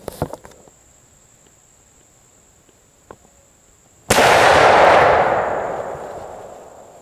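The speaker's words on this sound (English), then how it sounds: "All right, guys, put the first shot down range, about 40 yards, I guess." A muzzleloader rifle fires one loud, close shot at a range, its boom rolling out into a long fading echo, following light handling clicks and insect chirps in the quiet.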